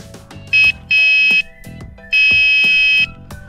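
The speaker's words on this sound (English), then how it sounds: "I'm going to play the first sound, which is more of the horn." A Hornit electric bike horn in its horn mode, strapped on with a rubber strap, blasts three loud, piercing electronic tones, a short burst then two longer ones, close up with no talking.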